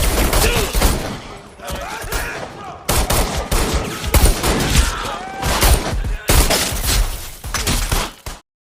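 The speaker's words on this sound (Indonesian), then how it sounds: "Gonzales langsung mengirim anak buahnya hingga kedua gangster saling baku tembak" Rapid bursts of gunfire crack and rattle through a gangster shootout in an action movie, with loud volleys and machine-gun strings that keep coming in waves before cutting off abruptly at the end.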